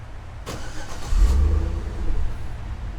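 A Chevy Avalanche engine is started remotely by key fob: a brief crank, then a loud, low rumble as it catches and settles into a close, steady idle with a slight swell in revs.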